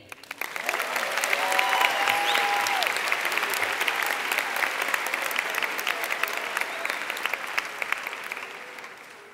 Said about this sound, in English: I want you to give yourselves a round of applause